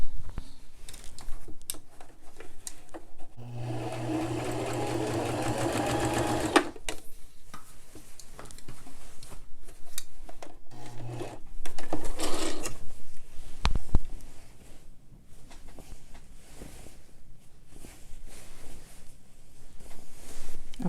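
A sewing machine stitches a sleeve onto a dress shirt, running in a steady whirring burst for a few seconds, then shorter runs later, amid rustling fabric and handling noises close by.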